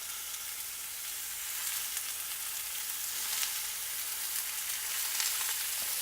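Bison burger patties sear in hot olive oil in a pan over medium-high heat, giving a steady, bright hiss of sizzling that builds slightly and stays even throughout, close up with no talking.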